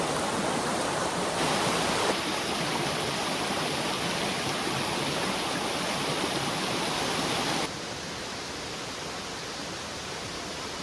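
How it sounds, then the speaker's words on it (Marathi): Water rushing down a hillside stream at night, a loud unbroken roar of flowing water that drops slightly in level toward the end. "पाण्याचा आवाज बघा खूप आवाज आहे"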